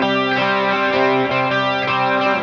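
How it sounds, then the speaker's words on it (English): Isolated distorted electric guitar stem from a pop song intro, processed with chorus, sustained chords pulsing in an even rhythm, loud and unaccompanied, no voices. "The first one is the intro. You can listen right here. It's just the guitar."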